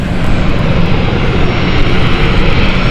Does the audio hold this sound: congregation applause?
no